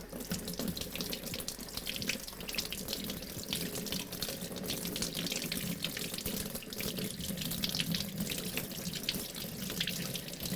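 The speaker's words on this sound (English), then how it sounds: "Okay, gonna go wash my hands." Tap water runs steadily into a sink as hands are washed beneath it, a continuous close splashing stream with no talking.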